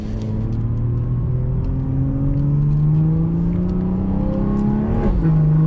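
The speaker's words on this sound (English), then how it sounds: "Once you punch it into second, that's when it really goes." A BMW 440 accelerates hard through the gears, its engine drone climbing steadily in pitch, loud and close from inside the cabin, with a brief dip at a gearshift near the end.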